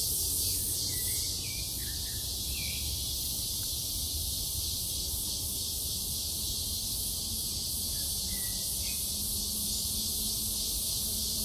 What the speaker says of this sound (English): Yes, we have a lot of cicadas.